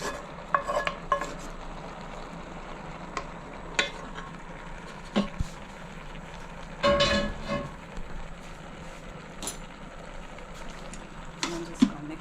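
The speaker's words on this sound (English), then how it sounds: "And I'm just going to mix it all up." Ground meat and beans are stirred in a pan for chili in an RV kitchen. A spoon scrapes and clatters in irregular bursts over a low sizzle.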